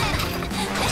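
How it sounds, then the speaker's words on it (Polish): Ice being smashed on an ice track in an animated cartoon: a loud, continuous clattering crash with grinding, mechanical texture filling the moment. "Te pidżakluski właśnie rozbijają mój piękny lodowy tor."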